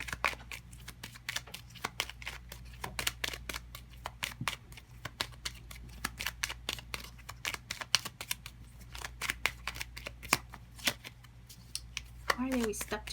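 Tarot cards being shuffled and drawn, a dense run of quick papery riffles and snaps repeating steadily throughout, fairly close, with a voice speaking briefly near the end.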